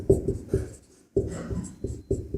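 Chalk taps and scrapes on a board during a maths lesson, in short rhythmic strokes with a brief pause in the middle, close and clear.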